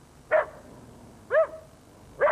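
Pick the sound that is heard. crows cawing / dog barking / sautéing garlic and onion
dog barking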